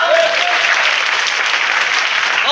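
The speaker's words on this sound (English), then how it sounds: "please clap." A classroom audience of police trainees claps together in a dense, even burst of applause that stays loud and steady for the whole stretch, with no talking over it.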